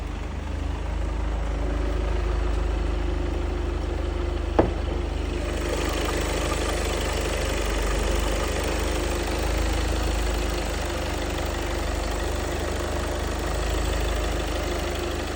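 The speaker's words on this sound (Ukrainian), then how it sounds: "Давайте заведу автомобіль і подивимося на наш двигун, як він у нас працює." A 2017 Volkswagen Passat 2.0 TDI diesel wagon engine idles steadily with a low, even rumble and faint mechanical clatter, continuous throughout with no voices.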